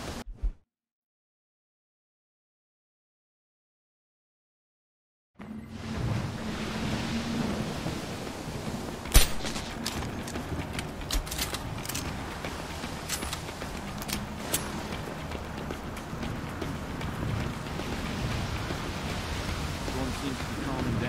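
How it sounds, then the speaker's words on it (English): Stormy ambience in the video game Deus Ex: Human Revolution, a steady roar of wind and rain with a sharp crack of thunder about halfway through, following several seconds of silence. "Storm seems to be calming down."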